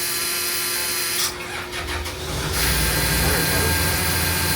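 A boat engine turns over for about a second with a rough, grinding crank from weak batteries, then a steady mechanical hum carries on without catching cleanly.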